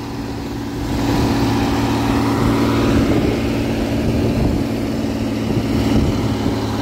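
Heavy machinery drones with a deep, steady engine roar as it pulls a loaded truck up out of a large quarry, the sound swelling after the first second and holding constant.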